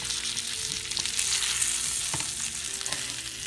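Cornmeal-coated fish fries in a pan, a dense, continuous crackling sizzle that stays close and even throughout, with a few faint clinks.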